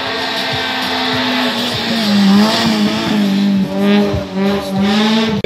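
Race car at a hill climb course accelerating hard, a loud engine note rising and climbing through gears with brief dips at shifts, close and dominant throughout.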